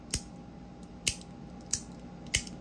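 Four sharp metallic clicks from an antique bronze Compoform Clickbar, spaced unevenly about half a second to a second apart, crisp and close against a quiet background with a faint steady hum.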